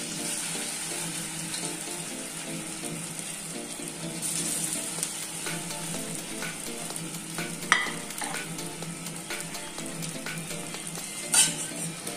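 Homemade snacks dropped into hot oil, giving a continuous close bubbling sizzle with a few utensil clinks and sharp clatters, and no voices.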